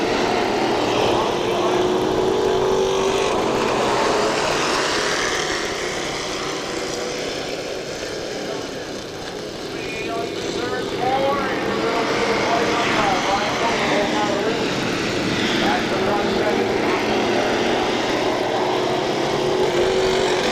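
Pure stock race cars accelerate through the turns at Kil-Kare Speedway, a loud, continuous engine roar that swells and dips as the pack passes, with an announcer talking over it.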